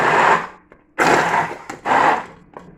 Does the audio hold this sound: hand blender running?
yes